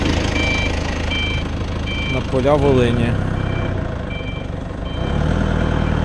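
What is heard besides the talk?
Dongfeng 244G2 mini tractor with rotary tiller driving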